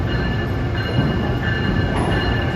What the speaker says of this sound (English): 152 arriving on track 10 is train 174 from Newport News, Virginia to Boston